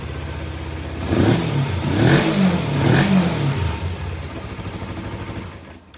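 A cold Kawasaki Ninja 250 motorcycle engine starts without choke and revs up twice in quick bursts, then settles into a rough, steady idle before cutting off.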